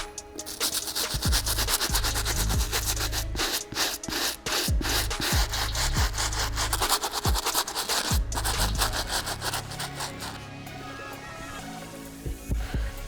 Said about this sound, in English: I'm gonna go ahead and move on to the stiff bristle. This should allow me to really get into those crevices and get this dirt and stain out of here.